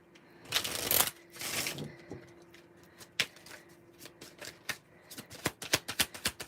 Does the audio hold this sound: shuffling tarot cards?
yes